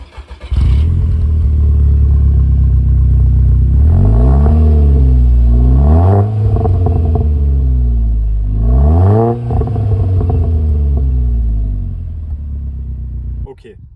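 A tuned Audi A1 Quattro with an MTM turbo kit producing 380 hp and an MTM exhaust drives hard: a loud, close engine climbs through repeated rising revs, with shift dips between pulls and a steady roar throughout.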